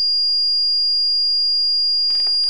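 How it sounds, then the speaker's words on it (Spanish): A Paradox home security alarm system sounds a steady piercing high electronic tone throughout, loud and close, with a brief burst of other noise near the end. "Aquí vemos que saltaría alarma."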